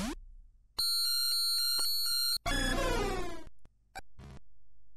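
Celebi's cry in the Pokémon Lost Silver game, a loud, shrill electronic chiptune burst of stacked beeping tones followed by a sweeping, warbling screech and a few short blips, harsh and piercing.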